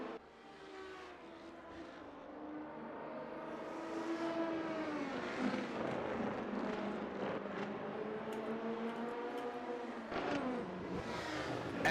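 A Lamborghini race car engine at the 24 Hours of Le Mans climbs and falls in pitch as it revs and shifts, with other cars droning in the distance. The sound stays at a steady level throughout, with no voices.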